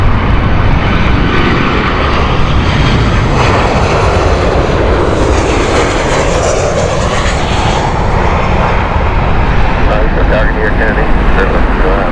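A distant airliner on runway 27 left at Heathrow Airport gives a steady, broad engine roar lasting the whole stretch, with people talking over it.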